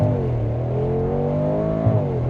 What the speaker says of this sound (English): Launch control, foot hard on the brake, floor it, race start, and we go.